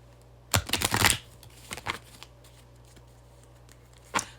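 Cards from an animal card deck handled and shuffled up close, a quick burst of riffling and sliding, then a few shorter flicks and one last snap, with no talking.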